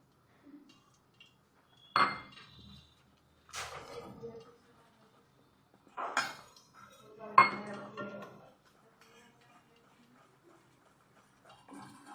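A spoon clinks and scrapes against a bowl in a few short bursts separated by quiet pauses as a flour-and-water batter is stirred. No one speaks.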